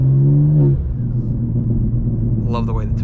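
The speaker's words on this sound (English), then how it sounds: "I love the way the turbos sound." Turbocharged engine of an 800 HP BMW M2 G87 pulling hard, a loud low rumble with a brief rising rev at the start, then a steady drone from inside the car during a high-speed run, with a voice talking over it near the end.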